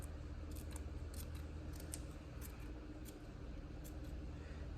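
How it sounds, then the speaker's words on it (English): Scissors make quick, light, crisp snips at a steady rhythm, close by, while cutting small feathery slits for a barrel ring dreamcatcher craft kit. A low background hum sits underneath. "You just kind of cut it like that, and then cut it on the other side."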